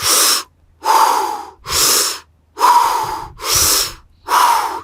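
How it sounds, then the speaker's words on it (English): Rhythmic circular breathing through the mouth: six strong, close, evenly spaced breaths with pronounced inhales and exhales and brief pauses between them. "it's 10 counts through the mouth of rhythmic circular breathing"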